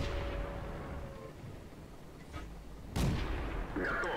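Tetrarch light tank cannon firing in a tank battle video game, a sharp nearby cannon shot followed by distant battle rumble and other muffled explosions, moderately loud.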